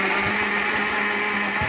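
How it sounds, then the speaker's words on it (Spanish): Blender running steadily on cooked yuca blended with cinnamon, milk and vanilla, a loud continuous motor whir with a steady hum throughout, close up and alone. "Y a licuar se dijo"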